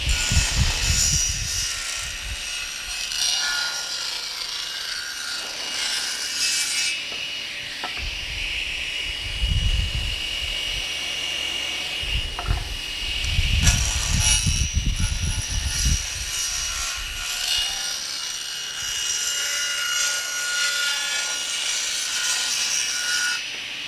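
A power saw blade cuts through wood on a cabinet-making job, with a loud, rasping whine in several long passes broken by short pauses, and no talking.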